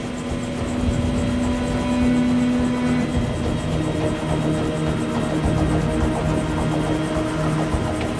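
A helicopter takes off on the Kamchatka Peninsula, its steady rotor thump and whining engine hum rolling on continuously at close range, loud and unbroken.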